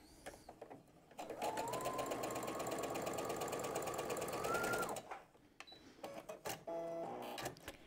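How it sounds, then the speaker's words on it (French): A sewing machine runs steadily for several seconds, stitching quilt pieces at a quarter-inch seam with a fast mechanical whir, then stops, followed by a few soft clicks and handling noises. "je vais la coudre à un quart d'inch"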